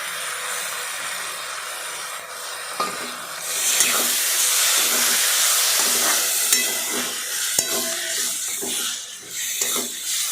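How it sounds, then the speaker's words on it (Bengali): Tomato paste with cumin, coriander and turmeric stirred in a hot pan, a loud steady sizzle and hiss with intermittent spoon scrapes and taps against the metal, no talking. "পেস্টগুলো দিয়ে ভালো করে নাড়াচাড়া করলাম।"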